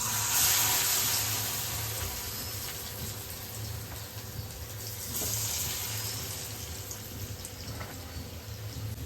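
Steady sizzling and crackling of chicken frying in hot oil in a kadai, a continuous close hiss with small pops throughout.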